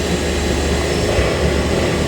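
Okamoto high-precision 6 x 18 inch surface grinder running a rapid downward axis move, a loud, steady, dense mechanical hum and whir with no break or change, no voices.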